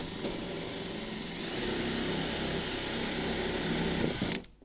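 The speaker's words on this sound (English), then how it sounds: "Next up is gonna be drilling our access point here." A power drill boring through a boat hull whirs steadily at high pitch for several seconds, then cuts off abruptly near the end.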